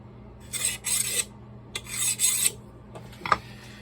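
An Ontario Knife Company Old Hickory butcher knife being sharpened, with two long, loud scraping passes of rhythmic rasping strokes followed by a few short scrapes and a sharp tick, alone and close up.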